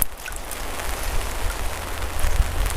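Rain falling on a bushcraft camp in the woods, a steady dense patter of drops with a low rumble underneath, close and continuous with no voices.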